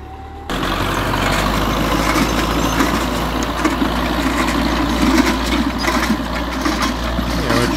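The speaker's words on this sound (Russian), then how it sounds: "Погнал трактор. Что-то он нифига не дерет, по-моему." Tractor engine running hard while tilling frozen, compacted ground, a steady loud low rumble that holds throughout after a brief quieter start, with no talk.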